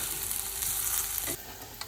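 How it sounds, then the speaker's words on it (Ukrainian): Beetroot for Ukrainian borscht sizzles and crackles steadily in a hot frying pan, close and continuous, then the hiss softens suddenly partway through, with a faint clink near the end. "Бурячок собі шкварчить."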